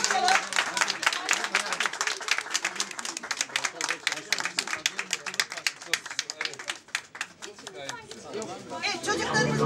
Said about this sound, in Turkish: Evet, güçlü bir şekilde alkışlayalım mı?